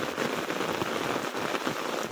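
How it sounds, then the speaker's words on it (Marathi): Steady rain falls on surfaces in a dense, even hiss of drops, close and fairly loud, with no voices over it. "आणि पाऊस पण"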